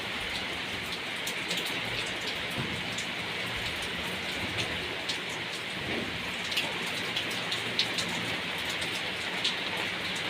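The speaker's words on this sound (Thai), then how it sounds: "วันนี้พาแม่แม่มาดูบรรยากาศในวันที่ฝนตกนะครับผม" Steady rain drums on a car, a dense, continuous patter of drops with occasional louder splats, close by and alone with no voices.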